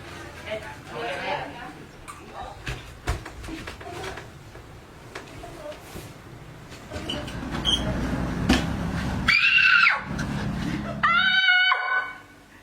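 A girl screams loudly and shrilly in a bedroom scene, in two high, sustained bursts near the end, following rustling and movement noise.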